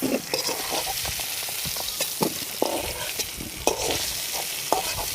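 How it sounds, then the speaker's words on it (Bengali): Potatoes frying in oil in a kadai, a steady sizzle with scattered stirring scrapes and clicks, close and fairly quiet, no talking. "আলুটা আমি ভালো করে ভেজে নিয়েছি।"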